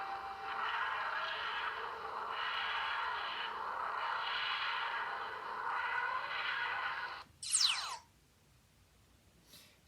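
A hurried full TARDIS dematerialization effect from Doctor Who: a wheezing, grinding drone that wavers in slow swells, then cuts out with a quick sweeping swish and near silence, fairly faint overall.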